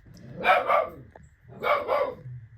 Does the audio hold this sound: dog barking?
yes